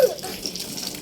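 Water poured over a small child during a cold-weather bath, a short close splash and running gush lasting about a second, no speech over it.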